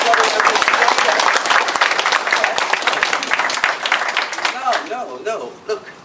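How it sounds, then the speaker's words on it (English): An audience claps loudly and densely at a martial arts academy talk, the applause fading toward the end as a voice begins speaking over it. "don't clap yet"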